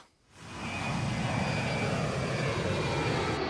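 Airplane engine roar rising quickly from near silence into a loud, steady broadband rush that holds for several seconds, with a faint high whine running through it.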